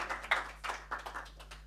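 A handful of separate claps at a parliamentary conference, quiet and scattered over a low steady hum, with no one talking.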